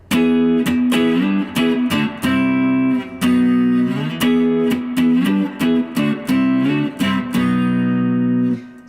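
Full barre chords strummed on an electric guitar playing a riff, ringing and rhythmic with a few quick stops between repeated chord hits, played loud and close.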